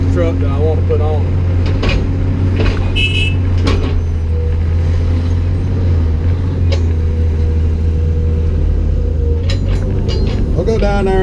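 A long reach Cat excavator loading mud onto a truck, its diesel engine droning loudly and steadily close by, with intermittent clunks and knocks and brief speech mixed in.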